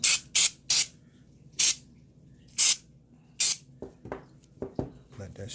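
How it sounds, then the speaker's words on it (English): Cleaner is sprayed through a Glock pistol barrel in six quick, close aerosol bursts, followed by soft handling clicks and light metallic clatter. "Spray some through the barrel."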